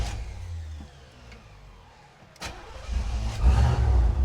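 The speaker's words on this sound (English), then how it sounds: "Let's see if it starts up." A Chevrolet Caprice wagon with a little gas in the carburetor cranking briefly and then firing up, its engine catching with a low rumble that swells and settles into a steady idle close by.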